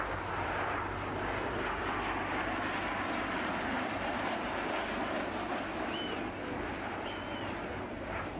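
A Gloster Meteor jet aircraft flying at the Abingdon air show gives a loud, steady roar that runs unbroken through the whole stretch, with no voices.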